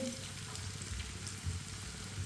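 Chopped onion, cut fairly large, sizzles steadily in a pan over medium heat while a spoon stirs it, soft scraping strokes recurring under a constant close frying hiss.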